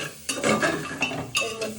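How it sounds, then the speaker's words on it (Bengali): Spicy mutton stew with green chillies being stirred in a pan, several quick close scrapes and clinks of a spoon against metal over a faint sizzle. "তো একটু ভালো করে নাড়িয়ে চাড়িয়ে"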